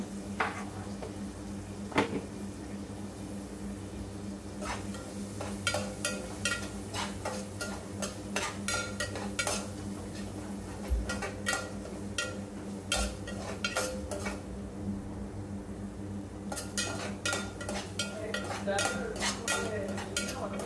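Metal utensils clink and scrape against a pan in irregular bursts as ginger-garlic paste fries for a meal maker (soya chunk) curry, over a steady low kitchen hum, with stirring sounds throughout and no talking.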